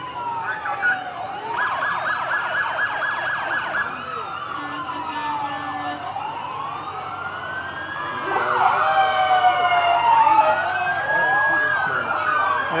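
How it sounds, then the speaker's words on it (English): An ambulance siren wails and yelps at moderate distance in a street parade, rising and falling sweeps repeating over road noise, getting somewhat louder toward the end. "Here comes Guttenberg with their new ambulance."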